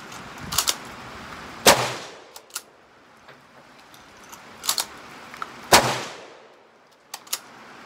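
Mosin-Nagant rifle shots outdoors in the rain: two loud sharp cracks with decaying echoes, separated by smaller metallic clicks and clacks of the bolt action working, close by.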